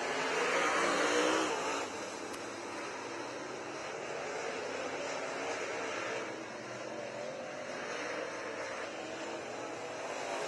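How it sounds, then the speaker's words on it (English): Race cars in a heat race at Tri City Motor Speedway, a steady mid-distance engine roar of several cars that swells and eases as they circle the track. "Scott Clifford off the pace in the 86 car."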